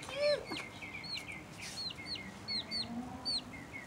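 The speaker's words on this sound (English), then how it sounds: "It's a chick, I love it" Young chick at a backyard bird show, giving a series of high, thin, downward-sliding peeps at irregular intervals, fairly faint against a steady background hiss and other distant fowl.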